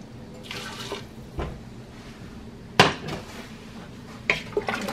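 Hot water pours into a pot for a beef stew in a pressure cooker, with splashing and trickling water, sharp clinks of metal cookware and a few drips, close and fairly quiet, with no talk.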